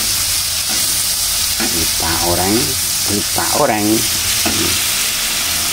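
Banana blossom stir-fries in a pan with a constant close sizzle and crackle, while a person talks over it.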